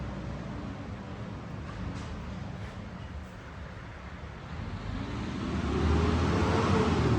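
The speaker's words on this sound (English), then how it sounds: "I think it's garbage truck." A garbage truck passes on a dirt road, heard as a steady broadband rumble of engine and tires that swells louder toward the end as it draws near, with some wind noise and no talk.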